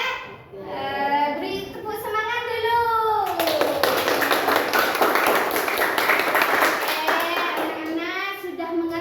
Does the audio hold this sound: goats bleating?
no